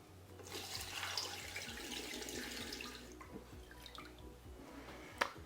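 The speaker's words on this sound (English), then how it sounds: "now I'm just going to cover it with water" Water pours steadily into a soup pot over rinsed chicken pieces for chicken and dumplings, a continuous broad splashing rush at moderate level, with a sharp clunk near the end.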